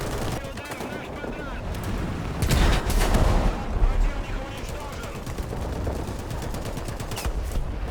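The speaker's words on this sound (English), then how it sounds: "with the enemies shooting me with machine guns and spotting me for their teammates" Machine gun fire in the tank game War Thunder, a dense continuous clatter of rapid shots over rumbling engine and battle noise, swelling louder for a moment midway.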